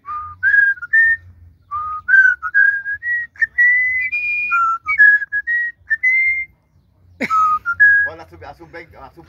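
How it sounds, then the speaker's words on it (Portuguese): A parrot whistles the Brazilian national anthem in a run of clear, close tonal phrases with short pauses, one burst louder near the end; a faint low hum sits underneath. "Errou o hino do Brasil, o papagaio."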